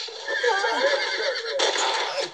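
A horse in the video game Red Dead Redemption whinnies loudly, a long quavering neigh with a second burst after a brief break, no talking.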